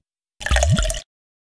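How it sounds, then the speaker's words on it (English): Water pours into a bathtub in the Peg + Cat Bubble Bath children's game, a single short splashing gush with a rising fill tone lasting under a second, loud and alone. "Keep adding water until the tub is full."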